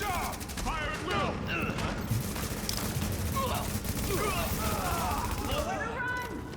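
Dense video game gunfire rattles without pause, rapid volleys and machine-gun bursts layered loud and close, while voices talk over the constant shooting.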